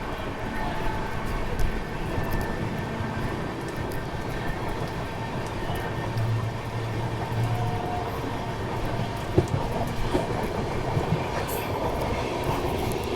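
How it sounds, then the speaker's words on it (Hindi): The Purushottam Express from Jagannath Puri to Anand Vihar Terminal runs steadily on the rails, a continuous close rumble of wheels and carriages with faint rhythmic clatter and occasional sharp knocks. "तो अब ट्रेन 1:30 पे लगातार भागने वाली है"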